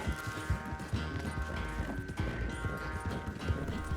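A horse gallops at full speed in a race in Red Dead Redemption 2, its rapid hoofbeats pounding steadily and close under continuous game music and background noise.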